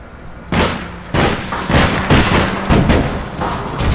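Repeated heavy gunshots in the online game APB, a string of about six booming sniper-rifle cracks fired roughly every half second, loud and close with echoing tails running together.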